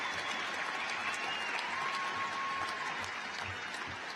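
Steady applause from a large audience at a 2016 high school graduation ceremony, continuous dense clapping holding at an even level throughout with faint whistles.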